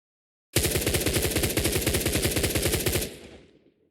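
Automatic rifle fire in an Unreal Engine 5 game with a recoil setting, a loud rapid burst of evenly spaced shots lasting about two and a half seconds, then a ringing tail that fades out, with no talk over it.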